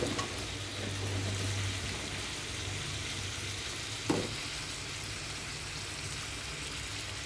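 Pork frying in a small pan gives a steady, soft sizzle that runs the whole time at modest level, with one brief louder clatter partway through and no talking.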